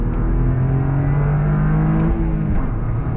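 A 2023 Toyota GR Corolla accelerates through a slalom on a back road beside a racetrack, its engine droning steadily and loudly with shifting pitch as it weaves through the turns.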